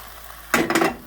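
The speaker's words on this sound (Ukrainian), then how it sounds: "Виливаю я яйце" Egg poured into a frying pan for a lavash dish in a home kitchen, a brief wet splatter and soft sizzle starting suddenly after a quiet moment and continuing for about half a second.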